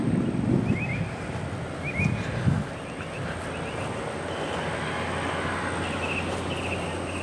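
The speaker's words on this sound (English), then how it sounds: "I can definitely hear something over there. Sounds like a big engine and stuff." A large engine drones steadily in the distance amid the aftermath of Hurricane Michael, a low continuous rumble with faint mechanical whines and a few brief nearby knocks early on.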